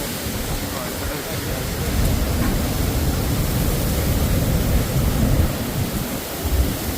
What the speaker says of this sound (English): I love the sound of the waves as well.